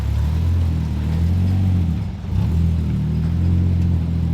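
Nissan Skyline R34 GT-R pulling out in cold weather, a deep steady engine rumble idling and creeping forward nearby, with a brief dip and swell partway through and no talking.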